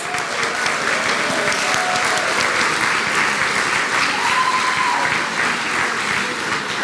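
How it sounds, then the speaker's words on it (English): A Cooperative Hall of Fame audience applauds its honorees, producing a dense, steady wash of many hands clapping together, loud and sustained for several seconds with no voices breaking through. "Let's start the round of applause."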